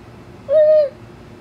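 A voice imitates a ghost with one short, owl-like hoot, a clear steady tone lasting under half a second against a quiet room.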